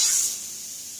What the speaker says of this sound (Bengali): অফ করে দিয়েছি, তাও সিটি পড়েই যাচ্ছে।